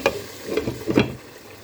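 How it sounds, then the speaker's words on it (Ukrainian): Onion sizzles softly in oil in a pan while it is stirred, with a few scraping strokes close by. "І у сковорідку відправляю цибульку. Смажитися до прозорості."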